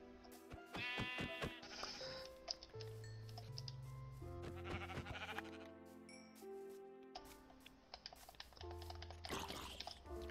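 Sheep bleat in the video game Minecraft, several short game bleats scattered among background music and soft key clicks, with no talk.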